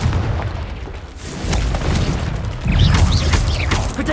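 A Confringo fire-blast spell explodes in the Hogwarts Legacy video game: a deep booming blast within a dense, continuous wash of battle noise and rumbling effects, loud throughout with a swell of impacts toward the end.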